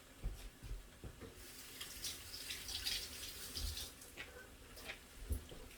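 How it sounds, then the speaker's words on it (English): Kitchen tap running while someone rinses their hands, a quiet, steady water flow with faint splashes and drips, fairly close, with no talk over it. "So, rinse my hands."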